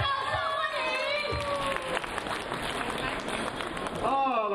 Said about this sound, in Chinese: 阿美娜老师，掌声欢迎。